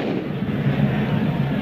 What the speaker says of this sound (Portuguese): o torcedor está soltando aqui o seu rojão